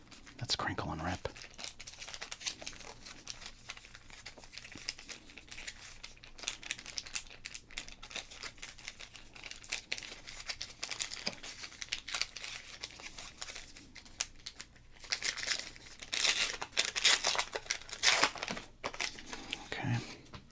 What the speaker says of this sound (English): Let's crinkle and rip.